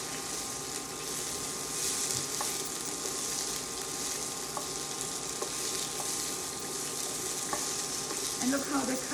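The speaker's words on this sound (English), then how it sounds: "So you just kind of lightly saute it." Asparagus sautéing in a hot pan at 375 degrees over medium-high heat, a steady close sizzle and crackle with occasional light stirring clicks, continuous throughout.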